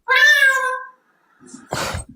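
A voice imitates a cat with one long, drawn-out meow, followed after a pause by a short breathy noise.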